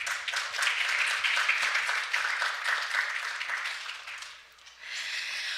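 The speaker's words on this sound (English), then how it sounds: "give them a big round of applause" Sustained audience applause fills a hall at the Seoul Diplomacy Forum 2023, steady broadband clapping from a large crowd that dips briefly near the end before swelling again, with no talk over it.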